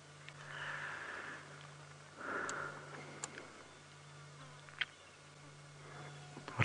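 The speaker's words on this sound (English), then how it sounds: "What I'd like you to try and hear is the flies buzzing" Flies buzzing on a hot afternoon on a safari drive in the African bush, with faint rising-and-falling drones and a low steady hum, a couple of soft buzzing swells and scattered faint clicks, no talk.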